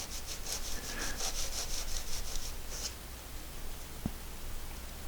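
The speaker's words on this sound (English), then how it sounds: "So I'm just going to apply some glue on 2 sides and then just do another rub joint" Glued wooden ring segments rubbed together to form a rub joint make a rhythmic, close scraping of wood on wood for about three seconds, then stop, followed by quiet room hiss and a single soft knock.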